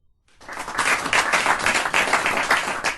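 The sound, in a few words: audience applause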